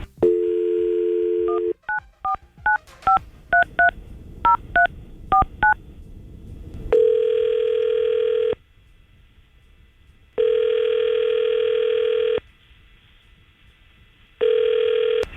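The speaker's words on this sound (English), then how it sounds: "So we're going to try to help out Tom right now by calling Angela" A phone number is punched in on touch-tone keys, a quick run of a dozen or so beeps, for a call during a radio show. Three long, loud, evenly spaced ringback tones follow, alone with no voices.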